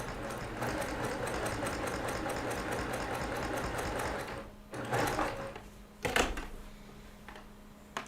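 A sewing machine runs steadily for about four seconds while stitching quilt pieces together, then stops and starts in short bursts, with a few handling clicks near the end.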